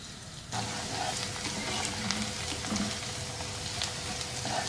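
Finely chopped onion frying in a pan: a steady, dense sizzle that starts abruptly and continues evenly, close and moderately loud, with a few faint scrapes and no talking.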